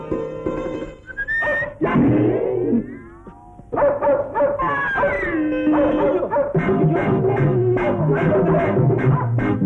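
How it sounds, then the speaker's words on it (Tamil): Dogs barking and howling in a Tamil movie scene, loud and close, with yips and drawn-out howls in irregular bursts and a rhythmic run of barks toward the end. "நாய்ங்க."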